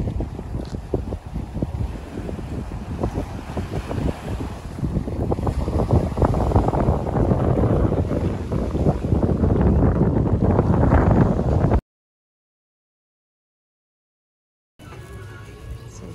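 Wind rushes over a boat at sea off Oslob, Cebu, a loud gusty roar with low rumbling buffeting that builds over several seconds, then cuts out briefly before resuming more quietly.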